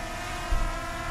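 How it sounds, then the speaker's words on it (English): A small budget drone hovering and flying nearby, giving off a steady, fairly loud propeller whine with layered buzzing tones and no talking. "So let me take this little drone up"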